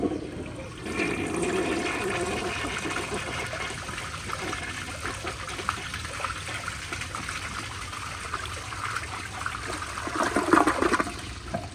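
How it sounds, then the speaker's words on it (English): A 1965 Kohler Barlow toilet on a flushometer valve flushes in one continuous rushing gush of water, close and loud, tapering into trickling refill near the end. "That flush was absolutely perfect."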